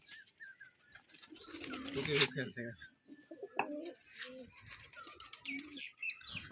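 Rajshahi Giribaj pigeons coo in soft, throaty bursts nearby, mixed with chirps from other birds and a voice speaking in the background.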